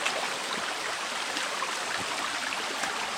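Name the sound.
small forest creek flowing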